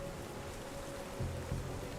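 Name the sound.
rain at night along the coastline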